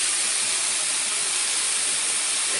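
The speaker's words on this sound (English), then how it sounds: "Got potatoes boiling for home brown, hash browns, or home fries." Peeled potatoes boil in a pot on a stovetop for home fries or hash browns, giving a loud, steady rushing hiss of steam and bubbling with no voices.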